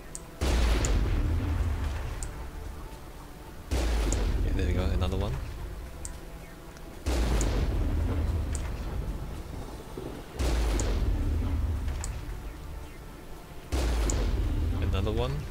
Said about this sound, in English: The explosion will kill enemies.